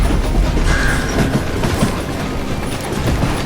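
A train rolling along the tracks in Call of Juarez: Gunslinger, a loud steady rumble with rhythmic clickety-clack of wheels over rail joints and a faint squeal, continuous and close.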